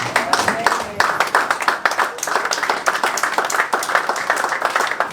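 Church congregation clapping and cheering to acclaim the Lord during a Sunday sermon, dense rhythmic applause filling the room with voices mixed in throughout.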